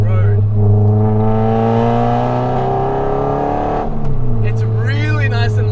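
Honda Civic Type R FN2 with its K20 engine pulling hard through a set of road corners, a loud, rising engine note with a steady harmonic drone, a brief lift near the end, then a snarling rev climb.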